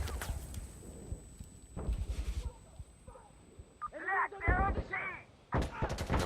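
Scattered gunshots and a grenade blast in the Insurgency: Sandstorm video game, sharp distant cracks and thumps spread out with quiet gaps, a faint high tone running beneath.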